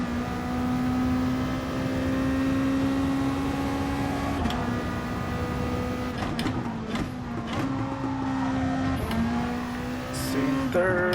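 A GT race car engine in Gran Turismo Sport's All Japan GT Car Championship drones steadily at high revs, then drops pitch at several quick downshifts, loud and close with a few clicks and rattles between gears.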